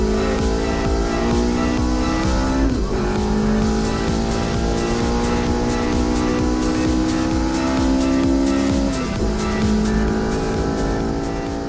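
A BTCC touring race car screams along at Silverstone, its engine loud and close with sustained high revs and two clear gear shifts as it drives hard toward the finish.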